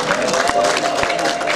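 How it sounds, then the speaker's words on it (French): Crowd at a Congolese political gathering applauding, a brief burst of clapping and murmuring voices with a few louder claps standing out. "On applaudit,"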